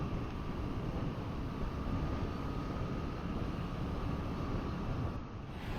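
A Moto Guzzi V7 Special motorcycle engine drones steadily while riding, a smooth continuous rumble mixed with wind noise, easing slightly near the end, no speech.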